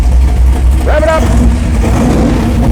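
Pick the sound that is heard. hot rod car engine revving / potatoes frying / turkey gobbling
hot rod car engine revving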